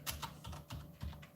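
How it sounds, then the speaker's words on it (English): Typing on a computer keyboard: a quick run of close, crisp key clicks at a steady rhythm, soft in level and with no voices present. "So I'm just typing"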